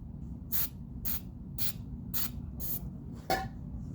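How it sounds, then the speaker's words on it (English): Five short hissing sprays of lubricant oil into a Taurus Judge revolver come in a steady rhythm, each about a second apart, close and crisp, followed by a brief metallic click. "I'm going to take some rim oil for lubrication. I'm just going to spray a little bit in there."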